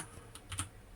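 A few quiet, isolated keystrokes tap on a computer keyboard, close and soft, with no talking over them.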